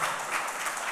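Audience applause at an African One Health conference presentation, a dense, steady wash of clapping heard briefly with no talk.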